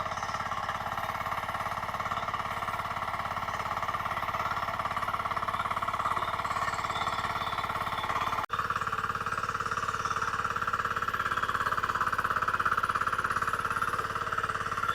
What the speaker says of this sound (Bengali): কাকা যেহেতু নতুন মেশিন নিয়েছে সেজন্য নরম মাটিতে চালিয়ে কাকা প্রথমবার চালাচ্ছে